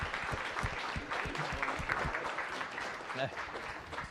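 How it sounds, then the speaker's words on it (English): An audience at a science café talk on weather forecasting gives a round of applause, scattered claps close by in a modest room, with talking mixed in. "let's give these two a round of applause"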